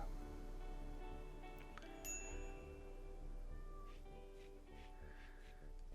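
A Phoenix owl cat in RimWorld gives faint, short meows over quiet background music and game sounds.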